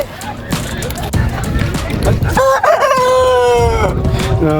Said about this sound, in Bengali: ফাইনালি আমরা এখন আসলে মুরগির দোকানে চলে আসছি